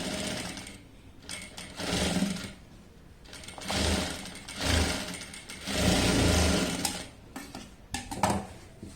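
A sewing machine stitches a puff sleeve frock in bursts of rapid mechanical whirring, starting and stopping several times with short pauses between runs, close and fairly loud.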